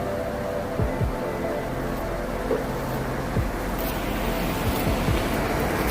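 Water rushes at Fulbari Mahananda Barrage on the Mahananda river, a steady broad roar of falling, churning water heard up close, with a few faint knocks and gusts over the continuous flow.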